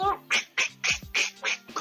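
A person's voice imitates Donald Duck with six or seven rapid, raspy quacking squawks in a steady rhythm, close and clear.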